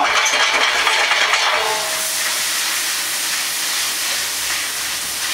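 Shallots and mushrooms sauté in a pan, a loud steady steamy hiss that swells briefly at the start then settles into an even, close sizzle with no talking.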